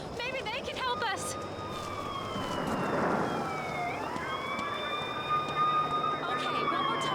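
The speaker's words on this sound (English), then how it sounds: "An ambulance." An ambulance siren wails in the video game Alone in the Dark (2008), with rising and falling tones over rain and background noise, and voices speak over it.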